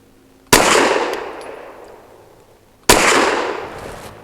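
A Sarsilmaz SAR9 S 19 pistol firing Federal HST 124 grain rounds outdoors, two loud sharp shots about two seconds apart, each followed by a long fading echo.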